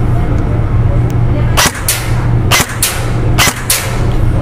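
Three sharp snapping shots from a Neptune 10" Short airsoft gun firing 0.20 ammunition, roughly a second apart, each with a quick echoing follow-up, over a steady low hum.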